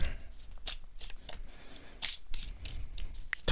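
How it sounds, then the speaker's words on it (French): Thin oracle cards from a shaman deck with totem animals shuffled by hand, a series of quick papery riffles and slides in irregular bursts, close and fairly quiet with no talk. "donc les cartes de la boîte du chaman avec les animaux totems. Sont très fines ces cartes."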